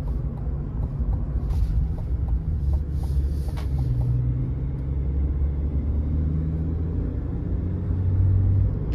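A pickup truck accelerating smoothly while towing a trailer, its engine a steady, loud low rumble with gently rising tones heard from inside the cab and no talking.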